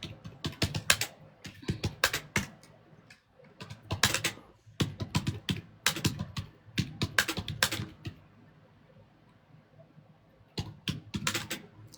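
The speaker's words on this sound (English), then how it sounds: "Sorry, guys, I'm just typing away." Bursts of typing on a computer keyboard, quick clusters of close, crisp key clicks separated by short pauses, fairly quiet with no speech.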